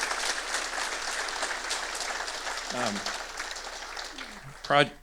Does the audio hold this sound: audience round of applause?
yes